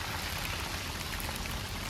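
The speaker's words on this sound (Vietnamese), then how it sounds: "mưa luôn rồi," Heavy outdoor rain pours down near a garden, a continuous broadband wash of drops that stays loud and even from start to finish, with no speech.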